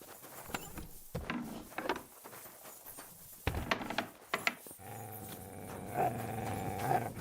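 Dog growling in the video game Kingdom Come: Deliverance, a few rough low snarls in bursts among game sounds, followed by a steadier stretch of ambient noise.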